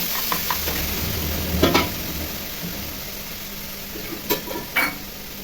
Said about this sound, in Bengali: তেলটা গরম হয়ে আসলে আমরা সেই ডালটাকে এর মধ্যে দিয়ে দেবো, ভালোভাবে মিশিয়ে নেবো একটু